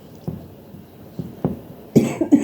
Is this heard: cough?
yes